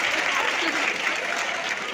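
Students at a Hindi comedy poetry event in Indore applaud, a loud, dense burst of clapping from a crowd that fills the short moment.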